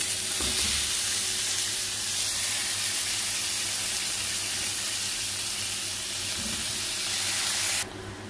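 Cauliflower and potatoes fry in hot oil with a loud, continuous hissing sizzle and a few faint stirring knocks, cutting off abruptly near the end.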